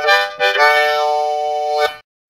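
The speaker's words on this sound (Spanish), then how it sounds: "Y la armónica high G." High G diatonic harmonica playing a couple of quick notes, then a bright reedy tone held for more than a second, ending abruptly in silence; close and solo.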